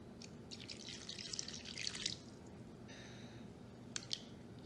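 Cold water trickles and splashes into a container of corn paste for a couple of seconds, followed by a few soft drips and clicks in a quiet room.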